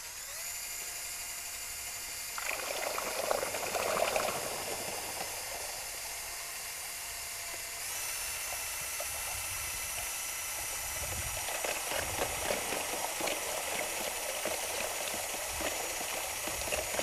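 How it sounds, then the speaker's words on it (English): A power drill stirs settled limewash of lime and pigment in a tub, giving a steady whirring hiss with a sloshing, bubbling churn that runs on its own, fairly faint and continuous. "so I need to just drill it up."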